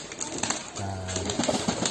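A pigeon gives a short low coo amid a busy background of other birds and faint noise at a pigeon farm.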